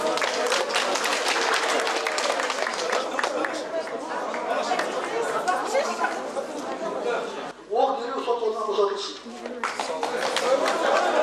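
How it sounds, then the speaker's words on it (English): People in a Kazakh courtroom applaud acquitted defendants, with dense clapping mixed with crowd chatter and voices, briefly interrupted by louder nearby talk before the applause resumes. "The acquitteds were met with applause."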